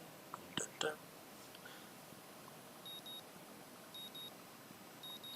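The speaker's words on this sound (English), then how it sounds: "That's my alarm clock, isn't it?" An alarm clock in the Katawa Shoujo video game beeps in short, evenly spaced pairs, thin and faint, after a few soft rustles and clicks near the start.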